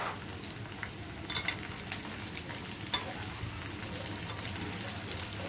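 Chopped onions and tomatoes fry in oil in a home kitchen, a soft continuous sizzle with occasional stirring scrapes, close but fairly quiet, with no voices over it.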